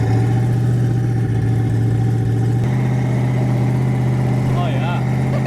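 Twin-turbo Mustang driving on the road, its engine a steady loud drone with a strong low hum throughout, a brief rise in tone near the end.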